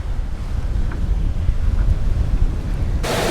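Strong wind buffeting the microphone aboard a sailboat running with full genoa and full mainsail, a continuous loud low roar with a hint of water rushing beneath, no voices.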